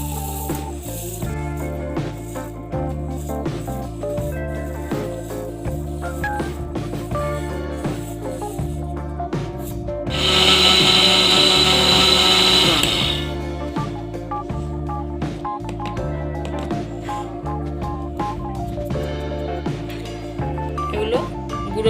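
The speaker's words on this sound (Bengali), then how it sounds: "এবার এগুলোকে আমি মিক্সারে গুঁড়ো করে নেব।" An electric mixer grinder grinds fried rice into powder for a Bengali rice barfi sweet, a loud whirring burst of about three seconds that rises over steady background music and then cuts off.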